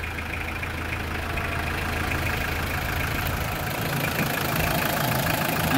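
A Mitsubishi Pajero 4D56 intercooler turbo diesel engine runs steadily after about an hour of running, a loud, even idle rumble with a faint knocking texture, close and continuous with no talk.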